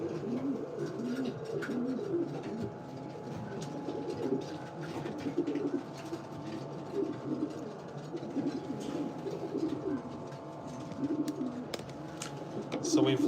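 Pigeons in a breeding loft coo softly and steadily, a low murmuring chorus of many birds close by that runs throughout with faint rustling and occasional voices in the background.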